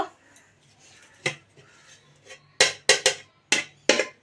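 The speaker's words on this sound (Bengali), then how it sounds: "এবার আমি ঢাকনাটা তুলব" A metal lid being lifted and knocked against a pot of restaurant-style chicken biryani, giving a string of sharp, close metallic clanks, with several quick strikes bunched together near the end.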